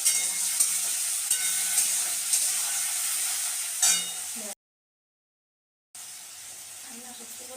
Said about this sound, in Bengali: ওদিকে উচ্ছে আলু ভাজাটা বসিয়ে দিয়ে